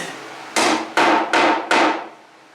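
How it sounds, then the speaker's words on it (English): Four loud, evenly spaced hammer blows strike wood while building a cabinet for old desk drawers, each a sharp close impact with a short ring, no talking. "Whack this down."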